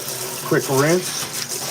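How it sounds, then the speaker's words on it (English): Water running from a sink tap to rinse a vintage hat in cold water, a steady gushing splash with a voice speaking over it. "I'm gonna rinse it out with cold water"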